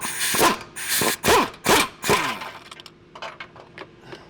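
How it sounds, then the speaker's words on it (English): A socket wrench with an extension backs out a differential bolt on a 2021 Ford F150 during a six-inch lift kit install, making four loud rhythmic ratcheting bursts that are then followed by softer, quicker clicks up close. "just use your socket and your extension again and pull that bolt out"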